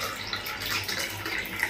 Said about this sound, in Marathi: आम्ही आमच्या शाही ग्लासांमध्ये हे दूध ओततोय